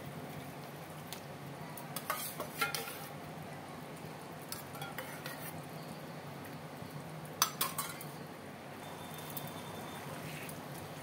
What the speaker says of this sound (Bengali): একটু ভালো করে নাড়িয়ে চাড়িয়ে দেবো